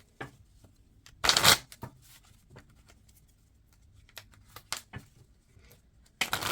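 Tarot cards are shuffled in a quiet room, making short crisp riffling bursts with small taps and slides between them. The bursts sound close and come at uneven intervals.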